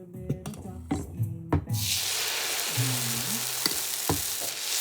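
Quinoa appam batter hits an oiled pan and breaks into a strong, steady sizzle that fills the rest of the moment, preceded by a few sharp clinks and someone speaking.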